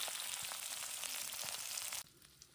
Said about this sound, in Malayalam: എണ്ണ ഒഴിച്ച് കടുക് ഇട്ട് കൊടുത്തിട്ടുണ്ട് കേട്ടോ കടുകിന്റെ കൂടെ തന്നെ കുറച്ച് ഉലുവി ഇട്ട് കൊടുത്തിട്ടുണ്ട്